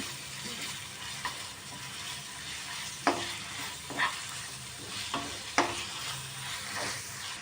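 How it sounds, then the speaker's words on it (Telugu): Ginger garlic paste fries in a pan, giving a continuous sizzle broken by several distinct scraping stirs of a spoon against the pan. "అల్లం వెల్లి పేస్ట్ పచ్చి వాసన పోయేంత వరకు వేయించుకోవాలి."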